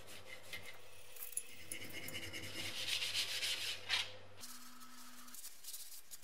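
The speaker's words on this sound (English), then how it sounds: "removed the strip paint with a steel wire brush" A steel wire brush scrubs stripped paint off the metal body parts of a hand drill, giving steady, close rasping strokes that swell and fade for several seconds before stopping.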